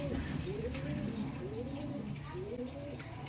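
Madrasi tournament pigeons, a Chennai breed, coo in a steady series of soft, rolling calls, close and continuous with faint background noise.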